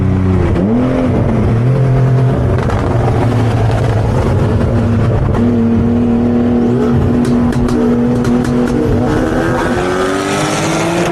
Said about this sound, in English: Alright, Caleb and I are gonna do a dirty tunnel run